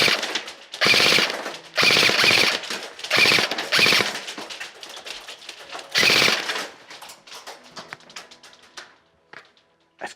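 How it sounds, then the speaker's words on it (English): VFC Avalon Rapier M4 airsoft rifle on full auto powered by a 7.4 volt battery, firing four loud, close bursts of rapid rattling shots with short pauses between, then mechanical handling clicks as it fades out. "we'll stick it on full auto, see what that's like as burst fire, see what the rate of fire is like"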